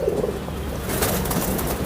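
A fancier's pigeons coo softly and continuously nearby, the low murmuring calls blending into a busy, noisy background.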